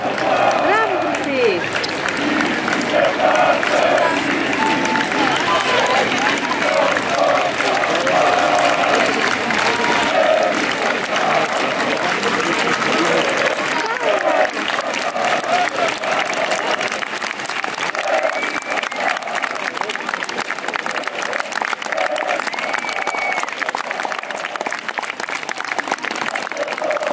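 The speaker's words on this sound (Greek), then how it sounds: "Χειροκρότα, μπράβο τη Χρυσή." Spectators at the October 28 military parade in Thessaloniki clap steadily in a dense, continuous patter of applause that lasts throughout, with crowd noise and nearby voices talking over it.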